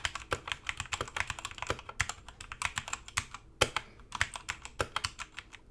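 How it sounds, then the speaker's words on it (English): Rapid, steady typing on a Redragon Fizz K617 60% mechanical keyboard with red switches, light clacky keystrokes in a continuous close stream with no talking. "here's a small sound test"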